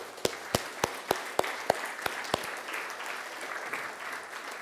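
Conference audience at a Nette 3.0.0-RC talk breaks into applause, a few sharp distinct claps at first settling into a steady, moderately loud wash of clapping from a crowd.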